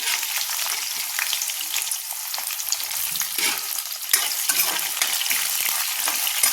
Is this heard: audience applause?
no